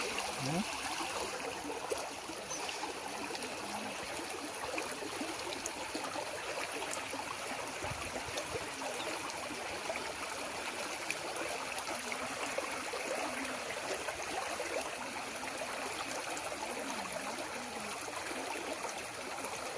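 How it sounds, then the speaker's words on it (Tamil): Strong stream water flowing steadily during net fishing, a continuous broad rush of running water that stays even and fairly close throughout with no break. "தண்ணி ஃபுல்லாக நல்லா ஓடிட்டுருக்கு"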